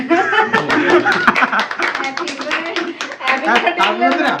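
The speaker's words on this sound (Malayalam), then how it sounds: "ആ എല്ലാരും കൈ കൈയടിച്ചോളി" Several people clap their hands together in quick, irregular bursts close by, mixed with talking and laughter.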